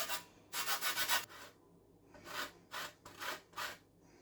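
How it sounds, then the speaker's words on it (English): Lemon zest is scraped across a larger handheld grater in two quiet groups of quick rasping strokes, about four to five each, with a short pause between and no talking. "So I'm going to use a bigger zester, or grater thing."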